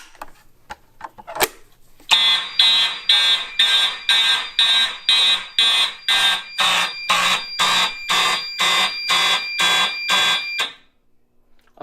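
A fire alarm triggered from a pressed call point blares in a loud, regular pulsing pattern of about eighteen bursts, preceded by a sharp click and a few faint knocks, then stops abruptly.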